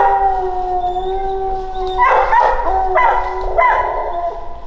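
Hound dogs bay and howl on a fall raccoon hunt at night, with long drawn-out tonal howls breaking into repeated loud bawling barks close by.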